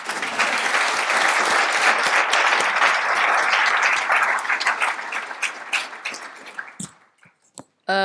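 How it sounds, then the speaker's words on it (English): An audience at a panel discussion applauds loudly and steadily for several seconds, the clapping thinning out and breaking into a few scattered claps at the end. "give him another round of applause"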